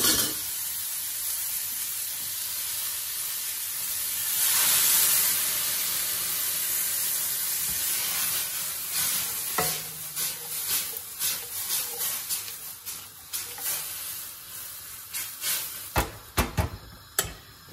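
A loud hiss of pasta water hitting a hot pan of asparagus, gradually settling into softer sizzling and bubbling with occasional clicks and clatters of a utensil.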